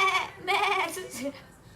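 A person's voice imitates a small goat's bleat, giving a few short, wavering nasal bleats that are close and fairly quiet.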